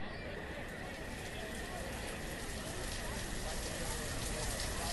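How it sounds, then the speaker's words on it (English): Rain in the village-building game Banished, a dense steady hiss of falling rain that holds evenly throughout, with a faint ambient tone beneath and possible talk mixed in. "The weather is crap. It's raining."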